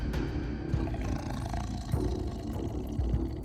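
A tiger growls and roars at close range, a deep continuous rumble with a few louder swells over about three seconds, no voices over it.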